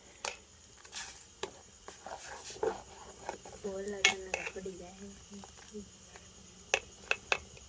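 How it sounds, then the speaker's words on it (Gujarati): A spoon stirs masala spices through Kathiyawadi-style Maggi noodles in a pan, giving sparse, faint clinks and scrapes against metal over a quiet room, with a soft voice in the background. "હવે આપણે મિક્સ કરી નાખીએ મસાલાને"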